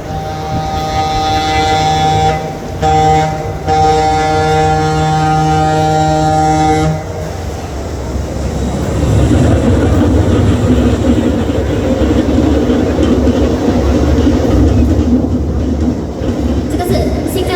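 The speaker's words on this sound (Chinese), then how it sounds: "这个是 MRT 走过的声音啊！" An MRT train passes near an open-air food centre at Boon Lay, Singapore, during a live performance. After a steady tonal passage, a loud, broad rumble swells in and rolls on continuously to the end.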